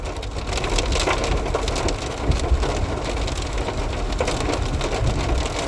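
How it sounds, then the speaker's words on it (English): Heavy rain pours steadily through an open car window during flash flooding, a dense, loud wash of drops drumming on surfaces for the whole stretch with no talking. "I hear that rain."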